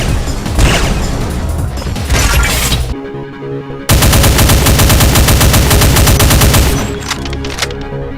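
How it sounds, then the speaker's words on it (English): Heavy explosive plasma shots from Cyberdemons in a Doom mod fire in a dense, rapid volley of booming blasts, loud and relentless, with a brief lull before the barrage resumes even harder. "a volley of heavy explosive plasma shots"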